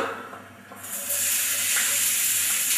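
Onions sizzle in hot oil in an electric frying pan, a steady close hiss that swells sharply a moment in and then holds at a constant level with no voices.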